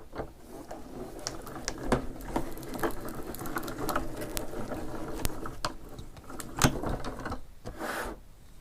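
A sewing machine stitches improv quilt pieces, running in short irregular bursts of rapid mechanical chatter with a few clicks and a brief pause near the end, close and fairly loud.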